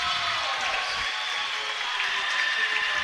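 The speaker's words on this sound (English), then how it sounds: "you can hear the Logan fans in the background cheering" Logan fans cheer and clap in the stands at a basketball game, a steady wash of crowd applause and cheering in the background at an even level.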